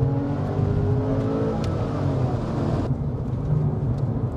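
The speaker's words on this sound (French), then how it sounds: "Le Flat 6, à mon sens, a des plus beaux bruits de la production automobile." A Porsche 996 Carrera flat-six engine drones loudly and steadily with a rough, throaty rumble that shifts slightly partway through, heard close up with no talking.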